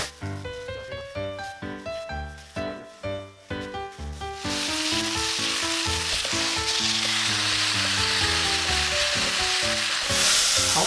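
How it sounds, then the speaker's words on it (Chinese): Free-range chicken leg steak laid skin-down in a preheated cast iron Dutch oven sizzles steadily and loudly from about the midpoint onward, with music playing over it throughout. "现在我们就开始来煎这个鸡腿排，先把这个铸铁锅加热"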